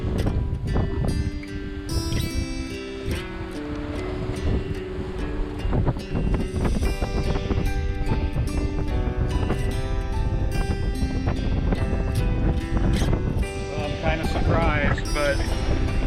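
Sailboat on a close reach at about 6.5 knots with at least a reef in the main, giving steady wind rush and water noise against the hull and rigging, loud and continuous throughout, with no clear talking.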